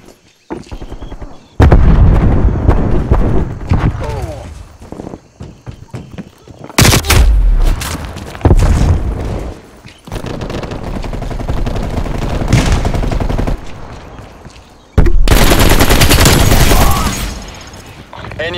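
Call of Duty Black Ops Cold War Team Deathmatch: a frag grenade blast and bursts of rapid gunfire, loud and close, in several violent clusters separated by brief lulls, with game voice callouts.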